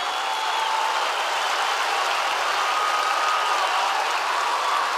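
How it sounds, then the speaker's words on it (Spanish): Sustained audience applause at the Festival de Viña 2024 for comedian Luis Slimming, a dense, steady wash of clapping from a large crowd that holds evenly loud throughout with no clear voices. "Y el aplauso que siempre quiso escuchar. Que suene muy fuerte para Luis Slimming."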